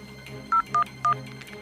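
A telephone number being dialed: three short touch-tone beeps in quick succession, clear and moderately loud, over a low background hum, with no speech.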